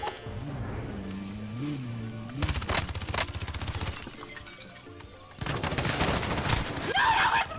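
Rapid automatic gunfire in the Call of Duty video game comes in loud, dense bursts separated by short pauses, with the heaviest fire near the end.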